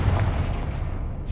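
A Confringo fire-blast spell in Hogwarts Legacy erupts as a deep, rumbling boom that fills the low end for over a second, steady and loud, with no voices over it.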